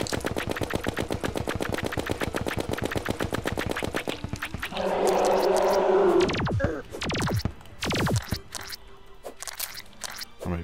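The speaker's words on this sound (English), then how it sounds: "We're gonna be firing away." Rapid gunfire in the video game Terraria rattles off in a fast, even burst of repeated shots for several seconds, then gives way to a louder blast-like rumble and a few scattered, echoing shots.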